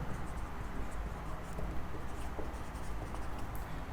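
A pen writes a handwritten math solution on paper, a continuous close scratching with small stroke variations throughout, no talk.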